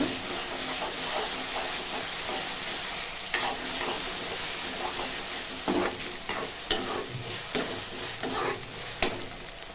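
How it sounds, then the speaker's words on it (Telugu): Ginger garlic paste frying in hot oil in a pan for chicken masala curry, a loud continuous sizzle with occasional spoon scrapes and taps as it is stirred. "ఒక స్పూన్ వేసిన అల్లం వెల్లిగడ్డ. మంచిగా కలపాలి పచ్చివాసన పోయాక"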